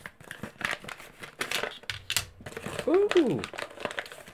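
Packaging of a Diamond Art Club diamond painting kit being opened, with crinkling plastic and paper rustles close by, broken by short tearing and snipping bursts while a person talks over them.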